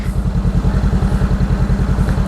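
A motorcycle engine idles close by with a steady, loud, rapid low-pitched pulsing throb that holds even throughout.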